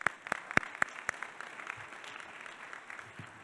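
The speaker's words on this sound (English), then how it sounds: "So I want to give you a round of applause." Audience applause at a bilingual education conference's board awards ceremony in California: a few sharp, distinct claps at first, then a steady wash of clapping that gradually fades, with no talking.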